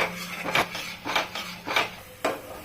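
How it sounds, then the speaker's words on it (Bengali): Ridge gourd and eggplant with spices are stirred and sautéed in a pan, giving four rhythmic scraping strokes against the metal at roughly regular intervals, close and moderately loud. "এখন এটাকে সুন্দর করে কষাবো।"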